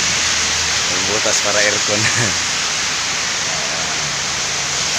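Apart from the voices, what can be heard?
heavy rain seen from atop a building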